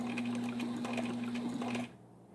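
A sewing machine stitching with Tex 69 bonded nylon thread at its longest stitch length, a steady close motor whir with rapid needle clatter that stops abruptly after about two seconds.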